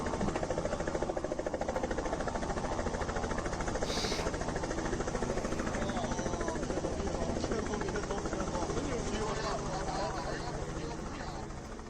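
Steady, dense rotor and engine roar of a rescue helicopter during flooding in China, loud and continuous throughout, with voices faintly mixed underneath.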